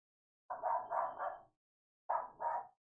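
Dog barking in two bursts, three quick barks and then two more after a short pause, heard close by in an otherwise quiet room.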